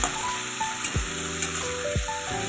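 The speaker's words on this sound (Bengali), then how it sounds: "এটা আলু ভাজা হচ্ছে, কিছু ভাজা আগে হয়ে গেছে, আর এটা আলু ভাজা করছি।" Sliced potatoes fry in a pan of hot oil with a steady, loud sizzle, broken by a few scraping stirs, and no voices over it.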